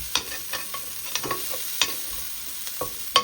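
Masala sizzles in olive oil for a chicken liver curry while a spoon scrapes and stirs the pan, with close, irregular clinks over a steady frying hiss.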